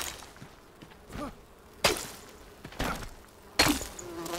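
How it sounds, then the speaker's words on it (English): Bees buzzing in the video game Enshrouded: brief insect buzzes come and go over a quiet background, mixed with a few soft thumps and bursts, faint and close. "the bees are chasing me"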